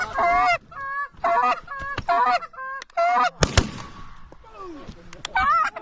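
A flock of geese during an early-season North Dakota goose hunt honks loudly and repeatedly up close, with overlapping calls throughout, a sharp gunshot-like crack near the middle and people talking.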